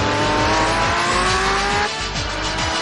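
A 1997 Honda Civic Type R in Forza Horizon 5, its engine droning loud and close with rising pitch sweeps as it shifts through gears, one brief dip near the end before the roar resumes.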